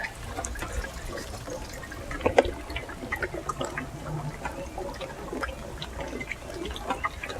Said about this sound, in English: The rainwater is being collected from the gutter